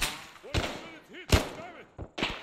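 Gunshots in the military video game ARMA 3: three sharp, loud, widely spaced cracks, each fading out quickly, with a voice talking briefly between them.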